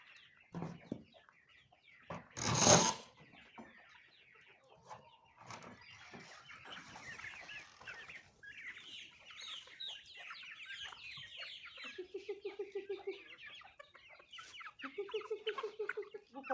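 Hens, including a feather-footed hen, cluck in a loose, overlapping chorus in a village garden, with short repeated clucking calls close by and a brief louder rustle near the start.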